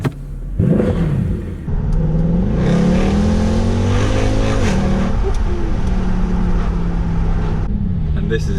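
A loud 6-litre-plus V8 revs hard up close, its pitch climbing and falling through several surges before settling into a steady throaty drone.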